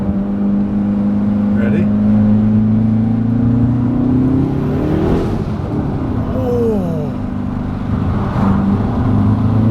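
A Hyundai Veloster N fitted with an Injen cold air intake accelerates from inside the cabin, its engine note rising in steady sweeps as it pulls through the gears, with excited voices talking over it.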